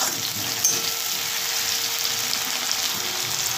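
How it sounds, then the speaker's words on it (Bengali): Onion sizzles steadily in hot oil in a pan for a tilapia fish curry, a close, even frying hiss that runs unbroken with no talking. "একটু পেঁয়াজ দিয়ে দেবো, দিয়ে একটু ভেজে নেব"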